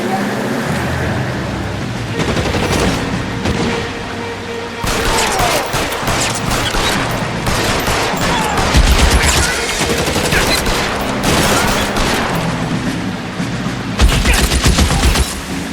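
Repeated volleys of gunfire in the L.A. Noire video game during a shootout, loud and near with several denser bursts and deep thuds, mixed with game voices, engine rumble and background music.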